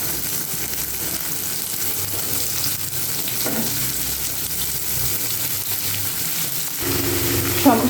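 Ash gourd pieces fry in oil with a cumin tempering and are stirred in the pan: a loud, continuous sizzle close by, with scraping stirs and a brighter crackle toward the end.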